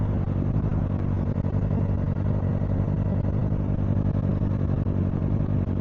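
From a helmet rider's view, a fully modified Kawasaki ZX4R engine roars in a steady, dense, loud wash mixed with wind and road noise, without letup.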